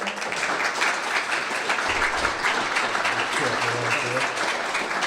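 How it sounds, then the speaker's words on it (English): Audience applause at an economic prosperity forum after remarks by a corporate philanthropy representative, a dense, loud, sustained round of clapping filling the whole stretch, with faint voices murmuring beneath it. "Give her a big round of applause"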